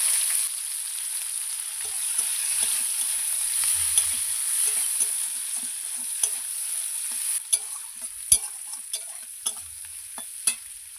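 Chopped onions and panch phoron frying in oil, a soft hiss that settles down, followed by a run of sharper spoon taps and scrapes against the pan near the end, close-up and fairly quiet, no talking.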